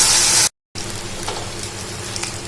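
Blended masala paste sizzling with fried onions for a prawn curry: a loud frying hiss breaks off, then resumes as a softer crackling sizzle with scattered pops.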